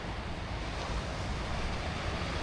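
Steady broadband wash of sea surf on a windy beach, constant and fairly loud with wind rumble on the microphone and no distinct wave breaks standing out.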